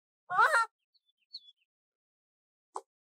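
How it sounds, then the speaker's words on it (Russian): Toca Boca video game birds give a couple of brief, faint chirps in near silence, after a short voice at the start. "Уху, птички."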